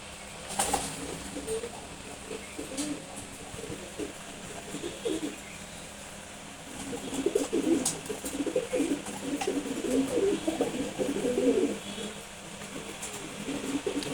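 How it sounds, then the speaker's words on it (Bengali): High-flying racer pigeons coo softly in a low, murmuring rhythm, growing busier and denser midway, with faint background noise. "নটটা ডেঞ্জারাস কবুতর।"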